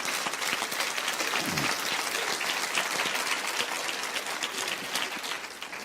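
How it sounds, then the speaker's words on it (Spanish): A crowd applauds steadily for several seconds, a dense, even wash of clapping from start to finish. "aplauden al Señor si quieren"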